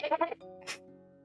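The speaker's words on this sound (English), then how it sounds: "The belch of a goat." A short, bleating goat-like call sounds once, close and fairly quiet, after a brief burst of speech, then a faint hiss.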